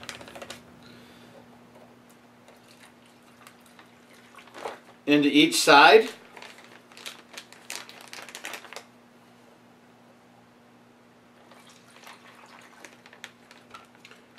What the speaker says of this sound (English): So I'm going to add a little bit of water.